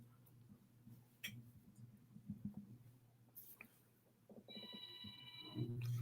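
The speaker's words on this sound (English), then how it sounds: "the phone ringing" A telephone rings upstairs in a house, a faint, distant electronic trill arriving in a short burst near the end over a low steady hum and light room noise.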